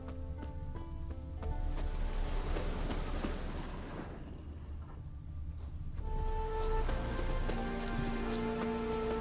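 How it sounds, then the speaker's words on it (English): Steady rain patters in a video game, a dense hiss of drops with a brief softer lull before the downpour swells again, layered over tonal game music and ambient hum. "Still fucking rain."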